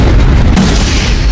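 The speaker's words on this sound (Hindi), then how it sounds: "हमें यहाँ एक और पेपर बॉम्ब मिला है। मैं इसे अभी डेटोनेट करना होगा।" A paper bomb detonates in the Naruto Shippuden anime, a very loud, sustained rumbling boom that fills the whole moment with dense blast noise.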